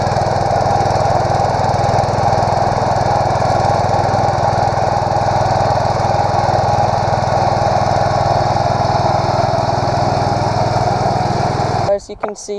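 An Allis Chalmers 716H garden tractor engine runs steadily at a constant loud idle, a close, unbroken mechanical drone that cuts off abruptly near the end.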